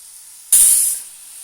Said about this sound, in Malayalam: ആ നെയ്യുടെ ടേസ്റ്റൊക്കെ ഒന്ന് പഴത്തിലെല്ലാം അബ്സോർബായി വരുന്നത് വരത്തേനും നമുക്കൊന്ന് വഴറ്റി കൊടുക്കാം